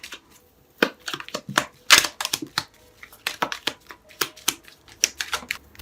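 Tarot oracle cards from the Pure Love Oracle deck being drawn and handled near the mic: a quick run of dry slaps, flicks and shuffles with short pauses, no talk.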